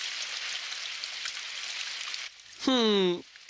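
Steady rain falls in a Hindi-dubbed Doraemon cartoon scene, a hissing, even downpour for about two seconds before it cuts out and a character's voice speaks briefly.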